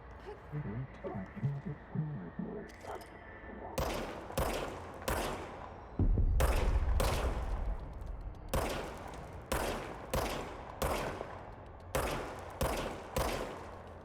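Gunfire in the video game Control: a series of loud, sharp shots in uneven bursts, each cracking out alone over a faint ambient background, with one heavier, longer blast midway.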